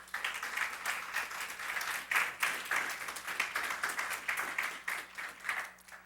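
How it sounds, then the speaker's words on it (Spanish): A church congregation claps during a Spanish-language sermon, a moderately loud, uneven round of hand claps with individual sharp claps standing out, rising and falling in waves for several seconds without speech. "Qué hermoso, denle un aplauso al Señor,"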